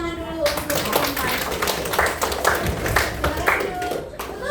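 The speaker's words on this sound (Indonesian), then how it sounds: "Kita kasih tepuk tangan dulu untuk kelompok" A classroom group is applauded, with many hands clapping in a fast, uneven patter that carries on steadily throughout.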